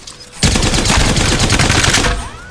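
A Havoc energy rifle in Apex Legends fires one loud, continuous automatic burst of rapid shots lasting about two seconds, close and dominant, with no talking.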